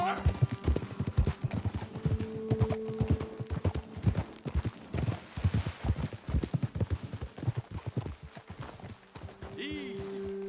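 Horse hooves clip-clop in a rapid, uneven gallop through a Red Dead Redemption 2 landscape, close and steady for most of the run, with a horse's whinny near the end and a voice calling out over the hoofbeats.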